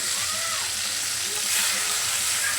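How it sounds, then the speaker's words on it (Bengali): Prawns fry in a pan for a potol chingri (pointed gourd and prawn) dish: a steady, close sizzle with soft crackling and faint hissing steam, continuous and without talk. "তো লাল লাল করে ভেজে নিচ্ছি"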